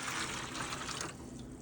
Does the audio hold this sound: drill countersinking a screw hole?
no